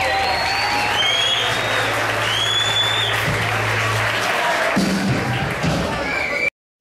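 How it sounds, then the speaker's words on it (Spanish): Sustained crowd applause fills the clip, broad and steady, with whistles and cheers rising over it and a low hum underneath. "Un fuerte aplauso, por favor."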